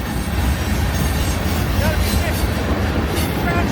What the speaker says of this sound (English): there's already a train